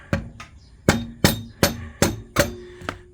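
A mallet strikes a motorcycle's rear axle nut seven times in an uneven rhythm as it drives the axle out during tire removal on a Victory Vision. The blows are close, sharp, ringing knocks with no talking.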